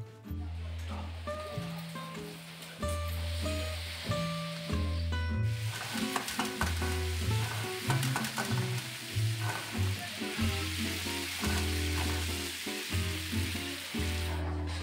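Sheng jian pan-fried buns sizzle in a hot pan, a steady hiss partly buried under loud music with a strong bass line.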